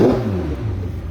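A 2024 McLaren engine revving briefly, a short low throaty blip that fades into a steady idle rumble, close by and alone.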